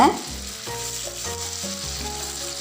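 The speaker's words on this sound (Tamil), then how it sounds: "எல்லா பக்கமும் நல்லா பொரிச்சு எடுத்துக்கோங்க" Fish sizzles steadily in hot oil in a frying pan, a dense, continuous crackle with a faint tonal hum running beneath it, close and moderately loud with no voices.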